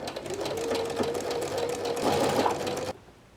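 A sewing machine stitches down a plush tail with a steady, close, whirring needle rhythm that runs for about three seconds, then stops abruptly.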